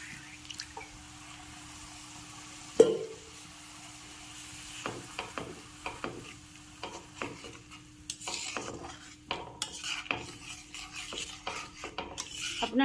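Spiced masala for a katla fish curry is stirred in a pan after hot water is added, with scraping, clinking utensil taps and soft wet sizzling and dripping that grow busier toward the end.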